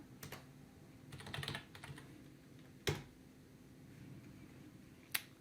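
Commands are typed on a computer keyboard in quiet, soft bursts of clicking keystrokes, with a few sharper isolated key taps standing out.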